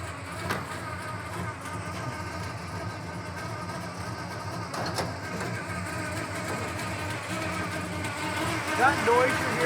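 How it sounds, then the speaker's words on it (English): The 1967 Plymouth Satellite's engine gives off a gear drive whine and mechanical chatter over a continuous low running rumble, with a brief sharp rise near the end. "That noise you're hearing right there is gear drive."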